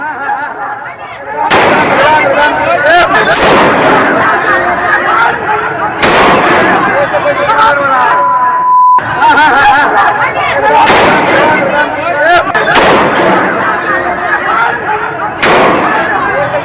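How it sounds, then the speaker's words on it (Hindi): Police in Bihar fire shots into the air to control an unruly crowd, with sharp loud bangs recurring every few seconds over constant crowd noise and voices. "बिहार की जहां बवालियों को संभालने के लिए पुलिस ने हवाई फायरिंग कर दी।"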